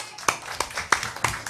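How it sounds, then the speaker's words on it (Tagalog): Clapping at a barangay community gathering, a few distinct, evenly spaced hand claps in a sparse rhythm, fairly close and isolated. "Yes, palakpak!"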